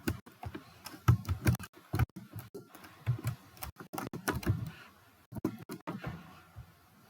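Quick, irregular bursts of keystrokes on a computer keyboard tap out an email address at a login screen, close and fairly quiet, with short pauses between clusters.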